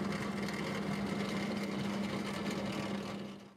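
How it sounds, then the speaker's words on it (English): A pneumatic workshop vacuum runs with a steady, continuous whirring roar and a constant low hum. It is heard alone at moderate volume and trails off at the very end. "Now this is my other pneumatic vacuum,"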